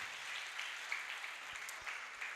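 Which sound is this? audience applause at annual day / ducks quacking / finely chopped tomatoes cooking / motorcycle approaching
audience applause at annual day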